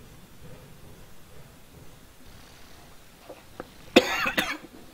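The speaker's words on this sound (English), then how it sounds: "Forgive me for that coughing." A single sharp, harsh cough bursts out near the end after quiet low background noise during play of the game Half-Life 2.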